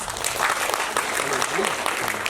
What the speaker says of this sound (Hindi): ताली बजाए फिर तो।